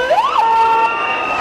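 An emergency vehicle siren at a tense 2012 street protest in Piața Romană, Bucharest, sweeps upward and then holds a steady wailing tone, loud and fairly near.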